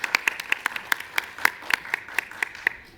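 Sparse, evenly spaced claps from a small forum audience at a youth public policy event, crisp individual hand claps in a loose rhythm that thin out toward the end.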